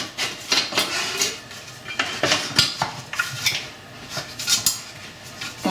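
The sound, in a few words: lid being put back on a Vorwerk Thermomix TM6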